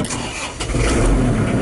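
A 2009 Kubota L4740 compact tractor with loader and cab cranks briefly and catches, then settles into a loud, close, rumbling idle.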